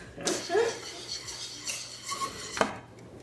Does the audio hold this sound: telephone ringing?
no